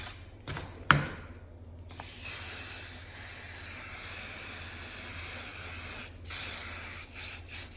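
A spray of paint for a painting of a lilac-breasted roller gives a steady, close hiss lasting several seconds, with a few short clicks and bursts at the start.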